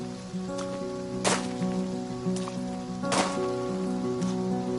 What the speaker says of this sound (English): As you can tell, the rain waters the plants for us.